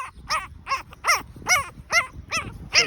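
A tiny American bully puppy close by gives a rapid run of about eight high-pitched yelps and whimpering barks, evenly spaced, with no other sound.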